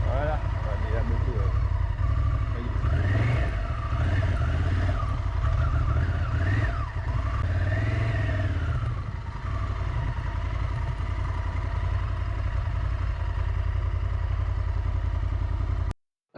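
A 2024 Honda Africa Twin motorcycle engine runs steadily throughout, a low rumbling drone with slight revving fluctuations, loud and close, cutting off abruptly at the end.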